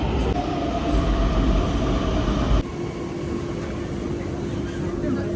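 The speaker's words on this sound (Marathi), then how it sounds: "आता मेट्रो येणार आहे आमची, अजून आलेली नाही आहे." A deep, steady rumble of a Pune metro train arriving at a station fills the space, then shifts to a lower drone with a sustained tone as it slows nearby.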